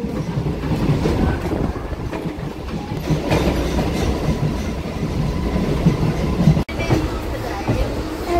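A Bangladeshi local train rolls along after leaving Bagula, a steady loud rumble with clattering wheels and wind buffeting the microphone throughout, one sharp jolt near the end.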